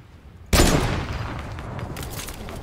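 Gunfire in the Fortnite video game: one loud broadband shot bursts in abruptly, then a dense ringing wash of rapid fire and echoing reports carries on for about two seconds, with no talking.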